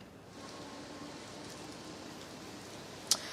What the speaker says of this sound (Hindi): देखिए जिस तरीके से बारिश हो रही है